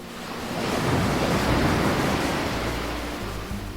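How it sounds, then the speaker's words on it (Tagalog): Ocean surf in Antique, Philippines, washes in a broad, steady roar that swells and then slowly recedes, with some wind noise on the microphone. "Kinabukasan pa lang, dinala ako ni Pat sa dagat."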